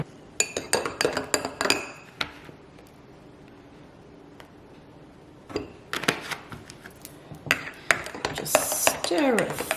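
Spoon clinking against a cup while stirring Manuka honey into a drink, light metallic taps in bursts with a quiet pause in between, close and fairly soft.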